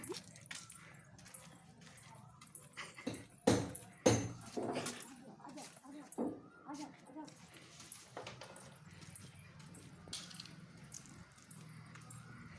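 An excited German Shepherd gives scattered whimpers and a couple of sharp barks in the middle, mixed with people talking throughout at a moderate level indoors.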